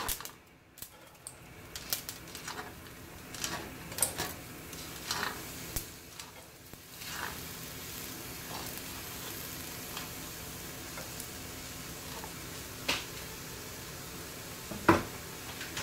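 Potato mixture for a potato turbate sizzling faintly after going into a hot pan, a soft continuous crackle broken by scattered clicks and light clatter, with no talking.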